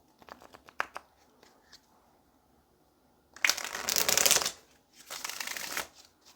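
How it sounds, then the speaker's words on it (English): A few soft card taps and flicks, then two bursts of a Twin Flame Oracle card deck being riffle-shuffled, crisp and close, with a short pause between them. "Let's get one more good shuffle."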